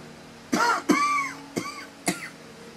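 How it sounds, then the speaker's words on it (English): A person coughs four times in short, harsh bursts, the first two close together, then two more spaced out, each with a rough, throaty rasp near the listener. "Stop this coughing."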